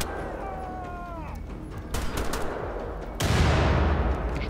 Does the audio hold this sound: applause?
no